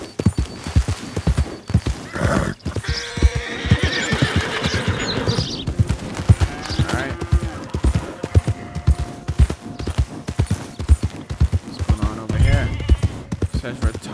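A horse's hooves clip-clop on the ground in a video game, first walking and then running, in a steady rhythm. A loud neigh rings out partway through, and a voice talks over the sound.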